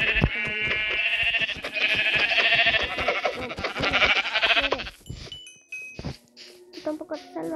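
Several sheep bleat in a loud, dense chorus of overlapping cries for about five seconds, after which the flock quiets and a few sparse, thinner calls and clatters remain; voices mingle with the animals.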